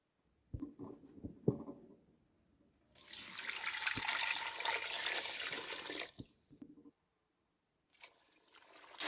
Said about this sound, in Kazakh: Толтырып суымызды құйып алдық.